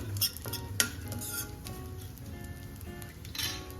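A spoon scrapes and clinks around a pan as a thick jaggery raab mixture with ganthoda powder is stirred, in steady close strokes over a soft sizzle, with no talking.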